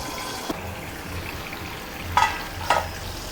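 Amla, Indian gooseberries, stirred in a pan while cooking slowly on low heat for pickle; a low, steady sizzle sits under a soft knock and two brief, louder bursts of stirring and scraping near the end.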